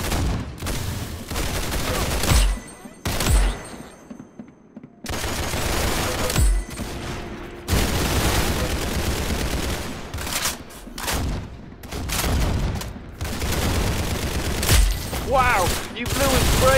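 Gunfire in the Roblox Arsenal video game comes as dense, loud volleys of rapid shots with brief pauses between them. A voice talks over the shooting now and then.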